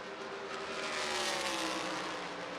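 USAC Silver Crown race cars at World Wide Technology Raceway, a loud continuous engine roar holding steady as the cars run down the back straightaway, with no talk heard.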